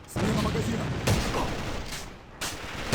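AK rifle fire in the shooter game AVA: bursts of gunshots with sharp cracks spaced about a second apart over dense background noise, with a voice talking underneath.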